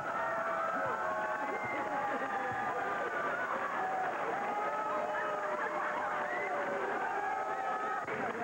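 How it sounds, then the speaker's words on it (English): A packed school gym erupts with a crowd cheering and applauding, dense overlapping voices and clapping forming a loud, continuous roar that holds steady throughout. "Hundreds of people jammed into the school gym to hug and applaud and even kiss its legendary leader"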